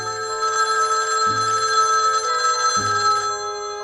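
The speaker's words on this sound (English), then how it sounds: "Or that telephone ringing" A telephone bell rings in three bursts separated by short gaps, steady and clear with a bright metallic tone, alone and close.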